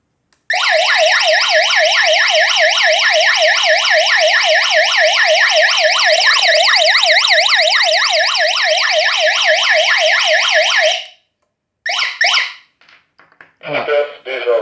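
A loud, close GSM alarm system siren triggered by an infrared motion sensor wails with rapid rising-and-falling sweeps for about ten seconds, then cuts off, followed by a few short chirps and a voice.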